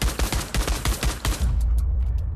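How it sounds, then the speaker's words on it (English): A TT-33 Russian pistol fires a fast burst of sharp, loud shots in the game Pavlov, then the echo rings out with a few faint mechanical clicks after. "And the Russian pistol,"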